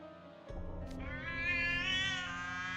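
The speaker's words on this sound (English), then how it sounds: "Where did they get this cat sound effect?" A game cat meow sound effect from Twisted Wonderland plays loud and close, a long drawn-out wavering meow that rises and lingers, over faint background game audio.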